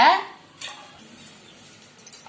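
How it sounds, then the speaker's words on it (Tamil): A metal kadai is set down on a stove while banana halva is being made: a single ringing metallic clank at the start, then near quiet, with a lighter clatter near the end. "அடுப்பு ஆன் பண்ணி நம்ம இந்த மாதிரி ஒரு கடாய் வச்சுக்கலாம்."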